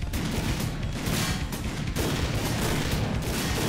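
Rapid, continuous automatic shotgun fire in the shooter Goldeneye: Source, loud and dense, with blasts blurring into a sustained roar and brief dips between bursts.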